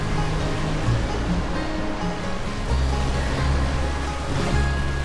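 Gentle river rapids in the Grand Canyon, with warm turquoise water making a loud, continuous rushing wash and low churning rumbles that swell and ease throughout.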